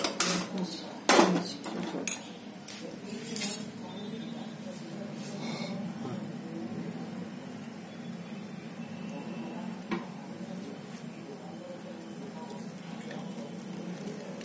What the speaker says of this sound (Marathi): आता मी गॅस पेटवतो, गॅसवर ठेवतो